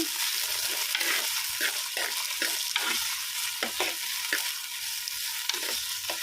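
Potatoes tossed and stirred in hot oil in a pan sizzle steadily, with a series of repeated spoon scrapes and stirring clatters at a brisk, uneven rhythm; close and fairly loud, with no talking.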